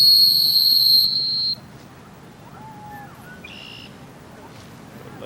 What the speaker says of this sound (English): He's being very deliberate with the whistle.